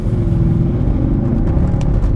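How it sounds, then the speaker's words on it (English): A Mercedes CLK63 AMG Black Series at full throttle gives a loud, continuous low engine roar with dense rumbling from inside the cabin, steady in level throughout and with nobody talking. "I floored it there, and the traction control was jumping so much that it kicked the iPhone off its mount"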